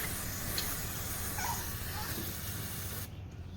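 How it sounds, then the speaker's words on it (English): Cleaner is sprayed onto a Suzuki Katana motorcycle carburetor during a rebuild, a loud continuous aerosol hiss lasting about three seconds before cutting off. "I'm going to use even more cleaner here because I don't want to have to do this again."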